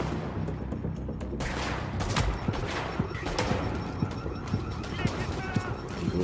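Gunfire in the video game The Division, a continuous dense barrage of shots and impacts with sharp cracks scattered through a loud, steady wash of combat noise.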